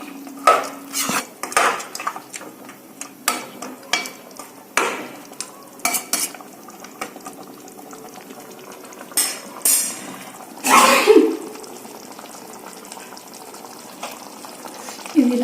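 Chicken curry stirred in a pot, with a utensil clanking and scraping against the metal in separate knocks and scrapes over a quiet cooking hiss, close by with brief gaps between strokes.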